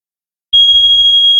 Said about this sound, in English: if I hold that, you'll hear a loud beep, which is kind of resetting the system